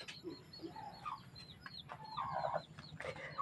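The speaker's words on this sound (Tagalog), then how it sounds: "Mga manok na lang ang natira." Chickens clucking in a rural yard, scattered short clucks and calls from several birds at moderate distance, fairly faint with a low background hum.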